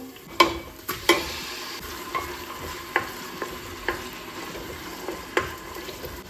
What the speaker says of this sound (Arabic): غنزيد عليه هذاك شويه ديال الثومه حتى هو يتقلى مع الدجاج ومع البصله